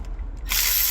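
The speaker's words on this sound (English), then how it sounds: "just gonna use my impact ratchet here" An impact ratchet on a Toyota Previa engine starts up halfway through, a loud close buzzing rattle of hammering as it loosens a cylinder head bolt, following a quieter stretch of faint handling noise.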